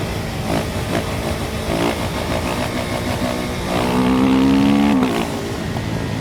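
A motorcycle rounds a left-hand corner on a racetrack as the rider drops a knee down, its engine a steady close drone that climbs in pitch near the end and then cuts back abruptly, with no talking.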